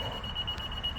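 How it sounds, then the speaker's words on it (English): A thin, steady high-pitched electronic tone from a 2015 Acura RDX's key-left-vehicle reminder, quiet and continuous over faint background noise. "that beeping is just reminding me that the key has left the vehicle"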